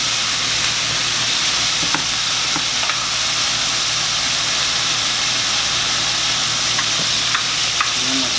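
Rib eye steaks sizzle loudly and steadily in olive oil in a pan, a constant close hiss with a few faint clicks and no talking.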